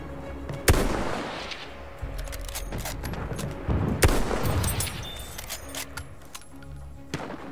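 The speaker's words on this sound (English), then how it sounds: "Wait for the enemy artillery barrage to stop firing." Enemy artillery barrage in the video game Battlefield 1: heavy booming blasts, with sharp impacts near 0.7 and 4 seconds, over a steady rumbling bed of distant explosions and gunfire.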